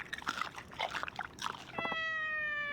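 A cat meows in a video game, with several short plaintive calls followed by a held game chime tone.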